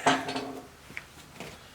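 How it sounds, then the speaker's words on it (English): Metal jack stand set under a lathe feed screw gives a single short clank as the screw comes out, followed by faint light rattles in a quiet workshop. "That sound you heard is a jack stand I had sitting under the feed screw"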